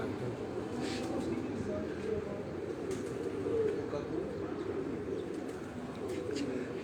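A pigeon coos on a rooftop with soft, low, repeated calls. Faint chirps sit over a steady background hum, and the bird stays at a moderate distance.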